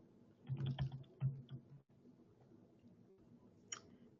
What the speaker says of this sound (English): I am going to type something right here.